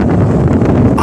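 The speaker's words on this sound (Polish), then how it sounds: "Ale wieje." Strong wind on a morning with a huge anvil storm cloud approaching from the north, a loud rough gust buffeting the microphone for about a second.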